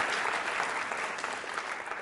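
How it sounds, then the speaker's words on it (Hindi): An audience at a university Holi quiz show claps loudly in thanks, a dense, continuous burst of applause lasting a couple of seconds with no pause. "आभार प्रदर्शन के लिए जोरदार तालियां बजाइए एक बार।"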